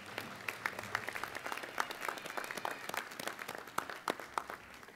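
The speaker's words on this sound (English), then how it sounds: "you give them a clap for helping you along the way" A graduation ceremony audience at CQUniversity Mackay claps for several seconds, a dense, fairly distant patter of applause with scattered louder claps and no talking.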